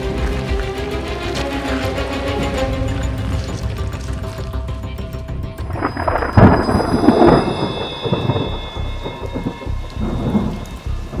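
A winter thunderstorm pours heavy rain, a loud continuous patter on surfaces with a rolling thunderclap swelling midway and then fading back under the downpour.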